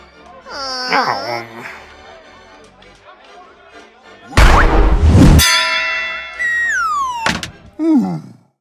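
A carnival high-striker bell rung in a cartoon scene, with bright ringing clangs and a loud thumping strike amid whooshing, sliding cartoon effects and voice-like chatter.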